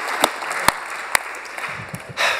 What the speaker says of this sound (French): on peut applaudir cet extraordinaire export